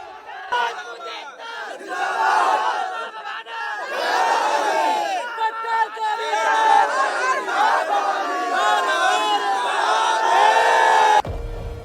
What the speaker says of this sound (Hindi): भीड़ अनियंत्रित हो गई है